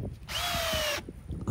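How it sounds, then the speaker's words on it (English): A cordless drill spins up briefly, a single smooth whir lasting under a second, then stops, with faint handling noise around it. "So now I got my own drill."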